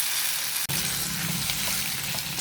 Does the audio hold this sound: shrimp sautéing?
yes